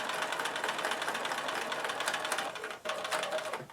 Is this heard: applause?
no